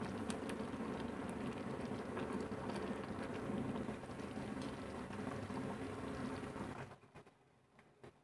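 Orange marmalade simmering in a pot, a steady dense bubbling and hissing close by that continues for about seven seconds before dropping away sharply to near quiet.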